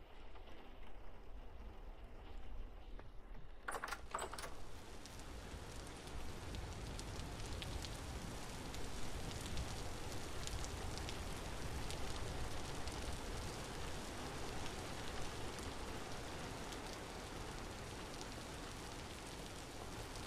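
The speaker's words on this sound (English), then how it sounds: "This rain hitting the glass." Steady rain patters against greenhouse glass in the video game Vintage Story, a dense continuous hiss of drops that begins after a short quiet moment and carries on evenly.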